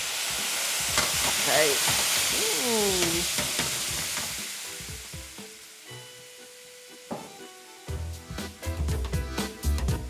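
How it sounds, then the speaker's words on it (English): White wine hits a hot pan holding beef drippings and bursts into a loud hissing sizzle that gradually fades, then a spoon scrapes and clatters against the pan, with one brief spoken word. "A quick deglaze with some white wine, if you have it, to pull all of those tasty beef droppings off of the bottom of the pan."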